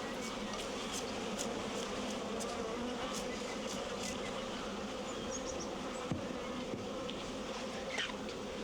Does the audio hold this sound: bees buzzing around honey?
yes